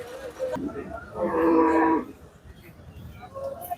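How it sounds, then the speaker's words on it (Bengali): At a rural livestock market in Ullapara, Sirajganj, a single cow moos once in a clear, drawn-out call of about a second, mid-distance above steady crowd murmur. "গরু আসতে শুরু করে দিয়েছে আমাদের গ্যাস লাইন পশু হাটে"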